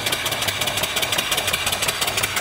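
A live steam mill engine runs steadily beside its 12-inch boiler, giving a continuous mechanical chuffing and hissing with a fast, even pulse. It sounds close and fairly loud, with no voices over it.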